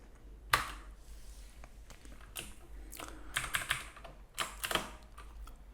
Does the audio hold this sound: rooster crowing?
no